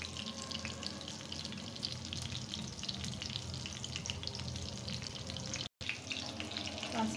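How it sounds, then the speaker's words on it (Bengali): Fish frying slowly in a pan, a steady hissing sizzle that runs continuously at moderate volume with a brief dropout near the end. "এখন এটাকেও আমি খুব সুন্দর করে ধীরে ধীরে ফ্রাই করে নেব।"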